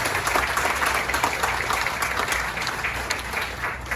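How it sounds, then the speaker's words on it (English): A room full of people claps steadily for several seconds, a dense and even round of applause. "Let's give them a round of applause."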